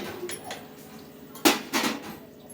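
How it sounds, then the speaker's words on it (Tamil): Fried cashews and raisins tipped into a pan of kesari, with a few metallic scrapes and clinks of a spoon against the pan, two louder knocks near the end, close and without talk. "இப்போ நம்ம அடுத்தது ஃப்ரை பண்ணி வச்சுக்கிற முந்திரி திராட்சையை போட்டுக்கலாம்"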